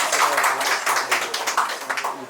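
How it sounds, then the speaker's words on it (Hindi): Audience clapping for comedian Mukesh at an open mic comedy show in Kinnaur, a modest crowd applauding steadily in fairly close, uneven claps. "एक बार जोरदार तालियां हो जाए मुकेश के लिए"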